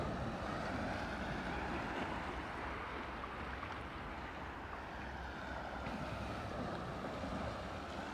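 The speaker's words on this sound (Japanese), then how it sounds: "波が今日荒くないですね" Steady ocean surf at a rocky island shore with fallen boulders, a continuous broad wash of calm waves mixed with wind noise, fairly distant and even throughout, no voices.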